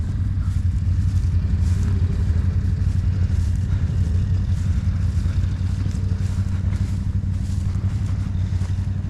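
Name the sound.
motorbike engine running during mud riding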